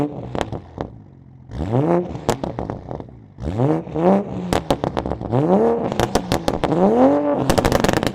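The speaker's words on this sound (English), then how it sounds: "This is the Tomei Type R single exit full titanium exhaust." An A90 Supra with a Tomei Type R single exit full titanium exhaust and catted downpipe revs repeatedly, rising and falling engine pitch in sharp bursts with crackles between, loud and close.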